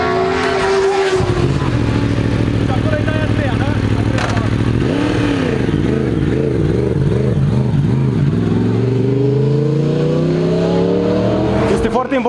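A motorcycle engine revs hard and close, pitch climbing and falling in repeated bursts before settling into a steady rising drone.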